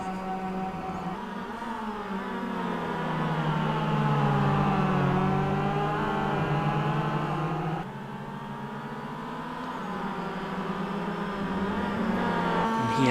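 Race cars at the Brands Hatch circuit, their engines droning in a continuous whine whose pitch rises and falls as they pass. The sound is moderately distant and nobody speaks over it.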